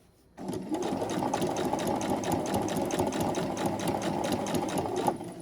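Sewing machine stitching quilt seams at a slow, steady pace, its even mechanical whir and rapid needle ticking running continuously and close after a quiet start.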